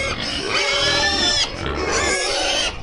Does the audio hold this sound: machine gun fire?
no